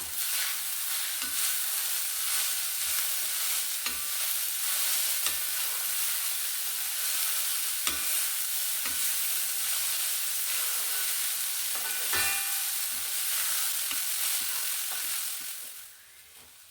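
Vegetables sautéing in a pan for Kerala-style egg rice give a steady, close frying sizzle and hiss, broken by regular scraping and clinking as a spoon stirs them, before the sizzle drops away at the end; no one speaks.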